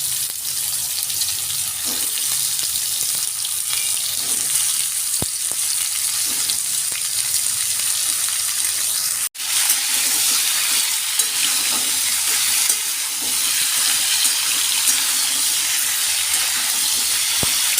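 Pumpkin and potato pieces frying in peanut oil in a kadai, a loud steady sizzle and hiss close by throughout, with occasional stirring knocks and a brief dip midway.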